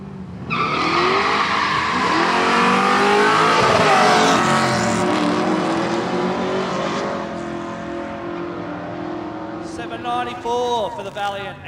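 A TD Cortina and a VG Valiant Coupe hardtop launch down a drag strip, engines roaring loudly and rising in a long sustained blast before fading, with a commentator's voice running over the noise.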